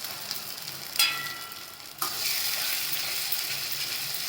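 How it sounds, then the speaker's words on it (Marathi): A ground masala paste with coriander leaves sizzles and fries in hot oil for a village-style egg curry, a steady hiss broken by two sharp utensil scrapes about a second apart. "आणि चांगलं असं परतून घ्यायचा मसाला तेलामध्ये चांगलं भाजून घ्यायचा"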